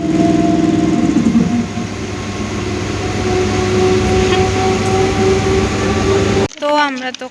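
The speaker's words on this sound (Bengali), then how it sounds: "আমাদের ট্রেন ঢুকছে।" A train pulling into Katwa station: a loud, steady rumble with sustained tonal whine and hum from the rolling cars, close by, ending abruptly in a brief burst of voices.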